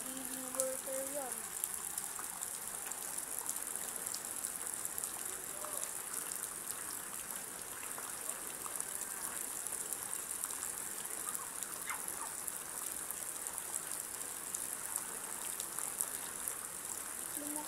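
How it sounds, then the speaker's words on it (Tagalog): Water rushes strongly and steadily in a continuous gushing roar that stays even throughout, with faint voices briefly audible near the start. "Lumakas nga yung ano ng tubig."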